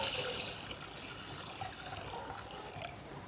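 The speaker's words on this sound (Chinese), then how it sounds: "把糯米简单的淘洗，" Glutinous rice is rinsed in a bowl of water with steady swishing and sloshing, a continuous close watery wash with small splashes throughout and no voices.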